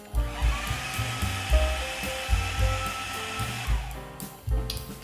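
A food processor whizzing smoked mushroom pâté made with porcini mushrooms and smoked butter, giving a loud, close, continuous motor whir with lumpy low churning pulses that rises and falls, then shuts off near the end.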